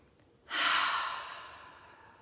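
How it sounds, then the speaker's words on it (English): A single deep breath taken during a guided meditation, with a soft breathy rush that starts suddenly, swells close to the listener, and then fades slowly as a long exhale. "Take a nice deep breath in and out."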